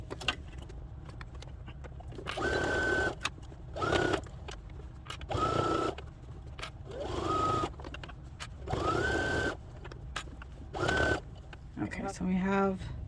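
A sewing machine stitches a 1/2 to 3/4 inch hem through thick, squishy layered mitten fabric. It runs in several short bursts, each spinning up to a steady hum, with brief pauses between them, close and moderately loud.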